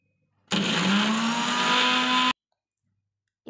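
An electric blender whirs loudly and steadily for about two seconds while mixing mayonnaise with sugar, salt and vinegar, then cuts off abruptly, followed by a brief click.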